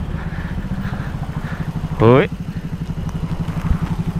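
A Yamaha MT-09 motorcycle idling close by with a steady, lumpy low throb throughout, while a short spoken greeting cuts in briefly.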